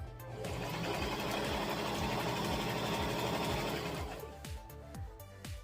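Sewing machine stitching tutu fabric, a fast, steady mechanical chatter running loud and close for about four seconds before stopping, followed by a few faint handling clicks.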